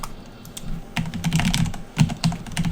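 Rapid, uneven clattering of keys on a computer keyboard, close and fairly loud, in bursts with short pauses and no talking.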